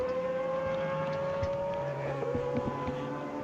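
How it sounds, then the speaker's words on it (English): An Audi LMP2 Le Mans prototype race car passes on the track at the 2008 Spa 1000 km, its high engine note holding a steady, sustained tone that wavers slightly as it goes by. "Here's the Audi coming through the LMP2 category."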